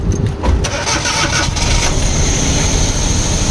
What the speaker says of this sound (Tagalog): So pandarin natin ang makina.